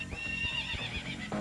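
A horse gives one loud, shrill whinny close by, mixed with a few hoof clops, with no talk over it.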